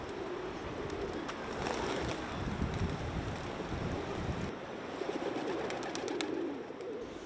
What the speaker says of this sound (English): There's an incredible density of pigeons here